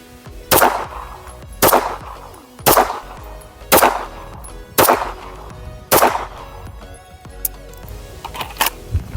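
Six sharp pistol shots at an indoor range ring out close and loud at an even pace about a second apart, each with a brief echoing tail.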